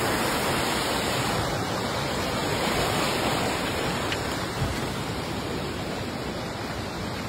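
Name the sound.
river water flowing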